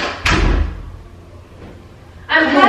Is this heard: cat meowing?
no